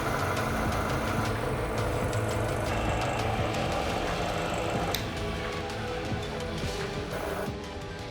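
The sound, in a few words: Liberty Engine 5.0 generator running outdoors under test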